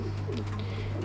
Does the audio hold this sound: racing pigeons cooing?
yes